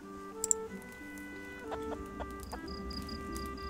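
Farm chickens in the village-building game Clanfolk cluck in short calls, close and fairly quiet, over a soft sustained musical backdrop.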